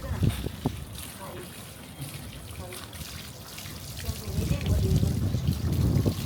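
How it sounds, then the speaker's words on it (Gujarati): Narmada river water poured over a dog during a bath on a rooftop terrace, an uneven trickle and splash close by, with people talking over it. "ઝીબુ નર્મદાના પાણીથી તને નવડાવે."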